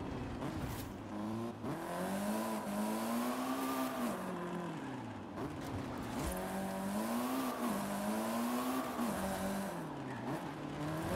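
A struggling car engine in the racing game Forza Horizon 5 drones loudly and continuously, its pitch wavering up and down as it strains, with tire squeal in a cops-versus-racer chase and no talk over it.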